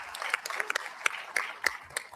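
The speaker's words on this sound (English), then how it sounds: "How about a round of applause for my fellow Alaskans?" An audience at a joint Senate and House veterans service organization hearing claps in brisk, scattered applause, with many sharp individual claps filling the room throughout.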